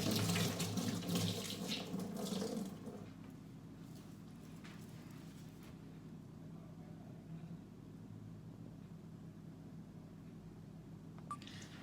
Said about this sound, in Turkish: ben bulaşığımı yıkadım. Birlikte durulayalım.